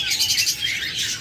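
Pet budgerigars and lovebirds in an aviary give a busy, overlapping stream of high chirps and tweets, close and fairly loud, with no voices.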